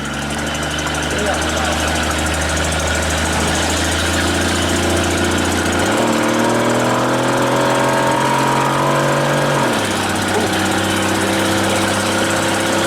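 An AMC AMX's engine running rough and burning oil while the car creeps in reverse: a loud, steady drone with a steady low hum and a rise in pitch around the middle before it settles back.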